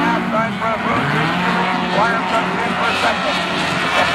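Race cars speed through the first turn just after a green-flag start, a dense, loud, continuous engine roar with shifting pitch, a commentator talking over it.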